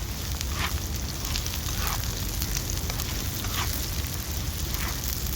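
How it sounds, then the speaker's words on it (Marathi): Onions and chopped green chillies sautéing in a pan for squid masala, giving a steady, close crackling sizzle throughout with no talk. "कांदाना मी परतून घेते"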